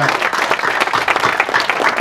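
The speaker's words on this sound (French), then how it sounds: "je crois qu'on peut l'applaudir, Patrice" Audience at a cycling club's rider presentation applauding, a brisk, dense burst of clapping from a nearby crowd lasting throughout.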